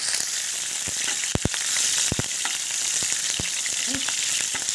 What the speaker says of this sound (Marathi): जिरं तडतडलं की मिरच्या घालून घेऊया